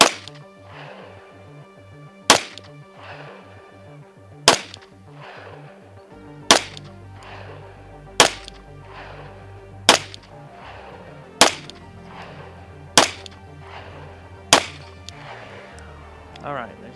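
Ten single gunshots from an STI Staccato P DUO 4.15-inch pistol at a range, each a sharp loud crack with a brief ringing tail, spaced evenly about every one and a half to two seconds, with no talking between them.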